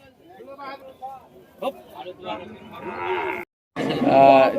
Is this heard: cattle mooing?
yes